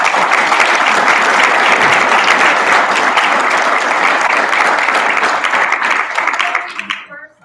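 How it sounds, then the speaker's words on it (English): Loud, sustained applause from a large audience, steady for several seconds before quickly fading out at the end. "we owe a round of applause to Michael Cohen for this."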